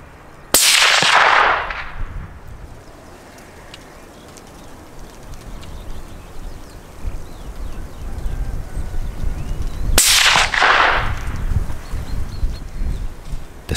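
Two sharp hunting rifle shots at roe deer about ten seconds apart, each a loud crack with an echoing tail across open ground, with quiet outdoor ambience between.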